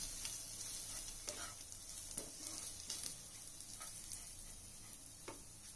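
Masala spices fry in a pan for aloo rolls, with a quiet continuous sizzle broken by a few soft stirring scrapes and clicks.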